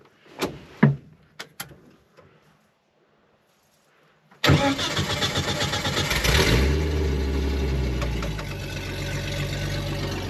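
A few clunks and a door thud, then quiet, before a car engine cranks, catches and settles into a steady, loud idle.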